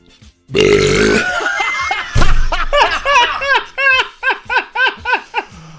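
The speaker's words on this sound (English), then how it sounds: "I've never seen someone burp from their diaphragm." A loud, drawn-out burp pushed up from the diaphragm, deep and rattling, lasts nearly a second and is followed right away by a brief hoot and then rhythmic bursts of laughter.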